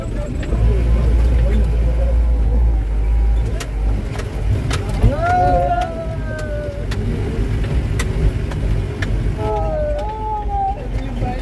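A 4x4 safari jeep grinds along a bumpy track in the Sam desert near Jaisalmer, its steady low engine rumble continuous and close, with faint voices rising over it now and then.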